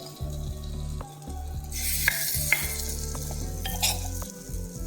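Sweet corn appe batter is poured into ghee in a hot appe pan, producing a steady close sizzle and frying hiss with a few sharp clinks of a spoon against the metal.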